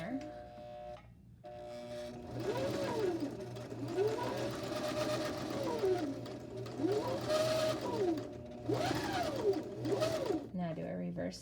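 A sewing machine stitches a square pillow, running in steady sustained bursts that rise and slow as it goes forward and reverse stitches, with short pauses between runs and a voice talking over it.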